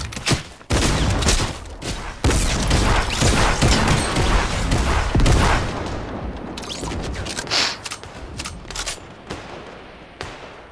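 Dense, rapid gunfire from Fortnite gameplay, bursts of automatic shots with heavy booming hits packed together for the whole stretch, loud and close with no talk over it.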